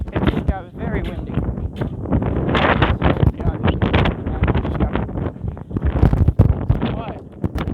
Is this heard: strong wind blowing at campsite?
yes